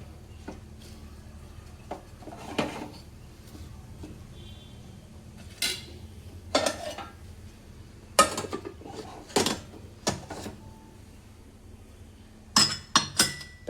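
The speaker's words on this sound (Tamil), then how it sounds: "ஒரு கிளறி விட்டுருவோம்." Salted cabbage being stirred in a cooking pot, with scattered sharp metallic clinks and scrapes of a utensil against the pot at an irregular pace over a quiet background.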